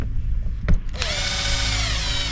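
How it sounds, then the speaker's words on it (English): A power drill unscrews worn screws from van bulkhead framing, with a couple of sharp knocks and then a loud, steady whirring spin held close to the microphone. "undo these pretty horrible looking screws"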